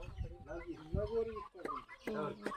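Hens and roosters on a small poultry farm cluck in short bursts nearby, mixed with a person talking.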